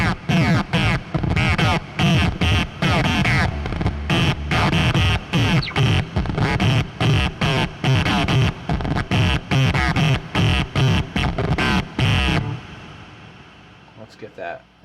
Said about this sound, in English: much of it is just the distortion sound versus how much is the synthy sound